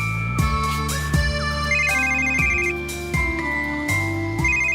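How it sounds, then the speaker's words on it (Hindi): A telephone ringtone plays loud and close, a bright repeating electronic melody in steady rhythmic phrases with no voices over it. "अब फोन उठा ले, उसको भी कुछ बोलने दे।"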